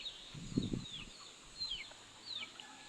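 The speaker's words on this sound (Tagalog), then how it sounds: "Dami kong manok. May manok ako doon." Chickens cluck softly nearby, with a few short low clucks followed by thin, high calls from the flock in the background.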